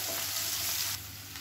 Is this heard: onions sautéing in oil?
yes